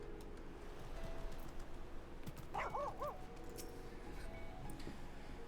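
A pet dog gives a short quick run of three or four yips, fairly faint under steady background noise and game sounds.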